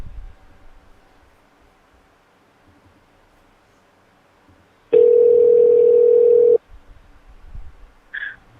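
A phone line gives a steady electronic tone after the caller hangs up. It sounds loud and continuous for about a second and a half after near silence, then a brief higher beep follows.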